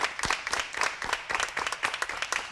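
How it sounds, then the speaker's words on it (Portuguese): Scattered clapping from a television studio audience, applauding a guest on a Portuguese talk show, heard as a moderate, uneven patter of claps over a couple of seconds. "vamos aqui uma salva de palmas para a nossa querida Evalina"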